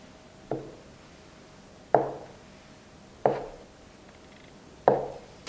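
Knife slicing a sheet of dough made from flour and eggs into small strips on a board, four separate sharp chopping knocks spaced evenly over a few seconds, close and clear against quiet.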